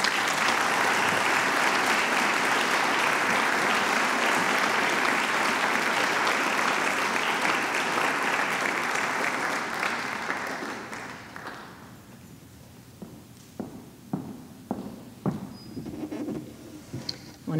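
An audience at a fall convocation gives dense, sustained applause for award recipients, which fades after about ten seconds into a few scattered claps.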